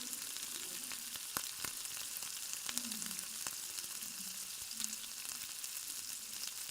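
Prawns frying in a pan with oil, a steady soft sizzle crackling throughout with occasional sharp pops and light stirring clicks, no one speaking.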